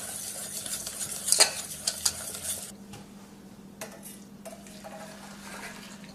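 Whisk scraping and clinking in a bowl as egg mixture is stirred while hot milk is poured in slowly, a few sharp metallic taps early on, then softer steady stirring, close and fairly quiet with a faint hum beneath.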